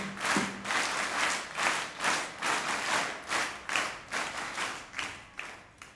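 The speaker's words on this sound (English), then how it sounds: "let us express our happiness by a special clap" Children clap together in a steady, even rhythm at an evening school gathering, roughly twelve loud unison claps in a row, with no voices over them.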